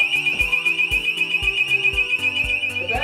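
An alarm from a nuclear reactor themed arcade machine: a loud, continuous high electronic tone over a rhythmic mechanical pulse that thumps about twice per second, close up with no speech.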